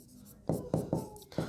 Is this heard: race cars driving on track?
no